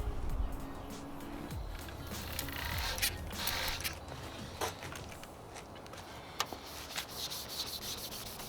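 Wet sanding a car headlight lens with 3000 grit sandpaper gives a steady soft scratchy rubbing, close and quiet, with a few sharper scrapes and clicks scattered through.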